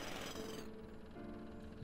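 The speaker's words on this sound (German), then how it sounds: "Der Presslufthammer ist falsch angeschlossen." A wrongly connected jackhammer in a point-and-click adventure game rattles with dense, continuous construction clatter, loudest at first then continuing at a lower, grinding level, with no voices.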